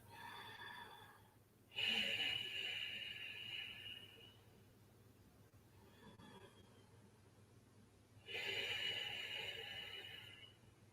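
Slow breathing during a beginner yoga class, two long, audible breaths a few seconds apart, soft and close, with quiet pauses between them.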